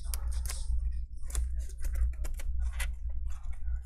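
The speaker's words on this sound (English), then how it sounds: "As I'm cutting it, you can see some of the tape is coming off." A prying tool cuts adhesive tape from the screen bezel of an MSI MS-16K2 laptop, making a quick run of sharp, close clicks and snips.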